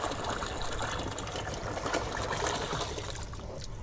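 Water poured steadily into a homemade umbrella-shaped aquarium, a continuous close splashing trickle of even loudness with no talk.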